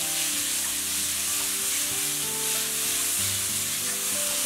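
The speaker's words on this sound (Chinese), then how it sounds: "炒香倒入西红柿，" Tomatoes stir-fried with salt in a wok of oil and scallions give a loud, steady, dense sizzle throughout, with soft stirring scrapes underneath and no voices.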